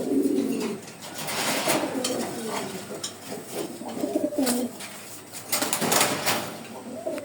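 Several pigeons coo in low, throaty rolling calls, close by, with faint clinks and rustling in the background.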